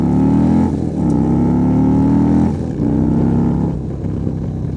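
A motorcycle revs hard nearby, its loud engine note climbing through the gears with brief dips at each shift before pulling again, strong and close.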